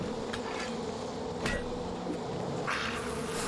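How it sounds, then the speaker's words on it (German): A swarm of bees in Far Cry 5 drones loudly and close, a thick continuous buzzing with a few brief knocks and rustles, and no talking. "Ah, was? Bienen!"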